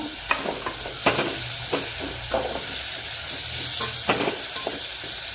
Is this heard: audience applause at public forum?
no